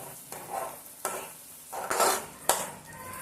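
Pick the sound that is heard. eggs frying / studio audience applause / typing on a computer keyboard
eggs frying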